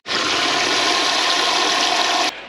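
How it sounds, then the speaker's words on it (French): Water from a tap pours steadily into a cooking pot holding a beef daube, a loud, continuous rushing stream that stops abruptly near the end. "Et on remplit d'eau."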